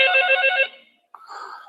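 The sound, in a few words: telephone ringing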